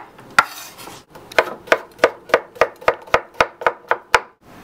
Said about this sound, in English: we're going to dice them all the same size and pretty small